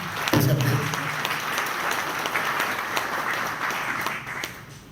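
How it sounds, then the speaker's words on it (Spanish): Sustained applause from a conference audience welcoming a speaker, a dense, even wash of many hands clapping that continues throughout and fades slightly toward the end. "a quien recibimos con un fuerte aplauso para su disertación"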